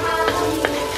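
Garlic and onion sizzling steadily in hot oil in a pan, a close, continuous frying crackle with a couple of brief stirring scrapes.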